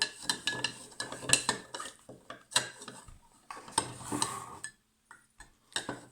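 A spoon stirs salt into water in a container during a children's science activity, a close run of quick clinking and scraping strokes against the sides that pauses briefly near the end.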